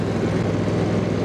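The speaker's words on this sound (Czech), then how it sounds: "a traktor jak kdyby jel na prázdno, jak kdyby nesekal." A KARSIT K 22/102 HX garden tractor with a 22-horsepower engine mows tall grass about 30 cm high, its engine drone holding steady and loud throughout with no break, and no voices.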